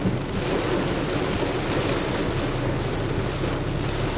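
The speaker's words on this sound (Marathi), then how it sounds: "खूपच जोरात पाऊस पडतोय आणि अनएक्सपेक्टेड पाऊस आहे." Steady, dense downpour roars without pause during a car drive, a broad wash of heavy rain; low rumbling underneath may be distant thunder.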